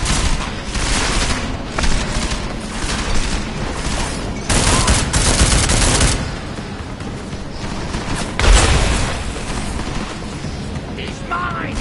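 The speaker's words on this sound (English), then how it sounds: "Lay down some cover fire!" Heavy cover fire in the video game Deus Ex: Mankind Divided, dense overlapping gunshots and booming impacts rolling on continuously at close range, with voices mixed in among the shooting.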